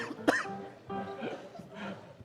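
Coughing from people after eating very spicy food made with beef tripe and lung, a sharp cough burst followed by throaty, spluttering sounds mixed with brief voices and chuckles, fairly close and moderate in level.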